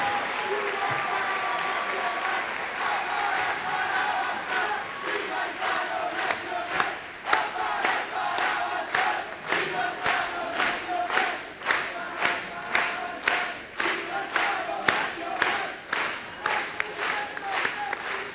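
An audience at a Latin American public education conference applauds, the scattered clapping swelling into loud, rhythmic clapping in unison, with crowd voices mixed in.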